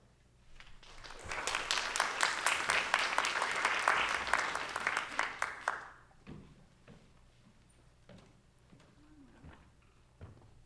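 An audience bursts into applause to welcome a speaker named Chelsea at a talk on place-based storytelling, loud sustained clapping for about six seconds that fades out into quiet room noise with a few small knocks.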